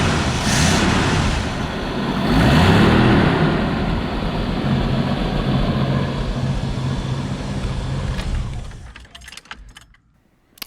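A Jeep engine runs steadily on a freshly rebuilt Carter BBD carburetor, a close, loud low rumble that holds even for about eight seconds, then cuts off and falls to near silence at the end.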